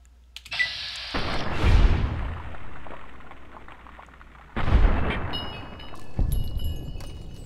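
Two heavy, booming gunshots in Fallout: New Vegas, each with a long rolling tail, followed by a sharper third report near the end, loud against a quiet background.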